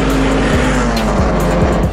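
Mazda MX-5 race cars in a MaX5 Cup race at Circuit Park Zandvoort roar past close by, loud engines and tire noise overlapping with falling pitch as several cars pass in quick succession.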